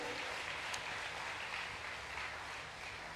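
An audience at a solemn religious celebration applauds, a steady wash of clapping held for several seconds at moderate loudness with no voices over it.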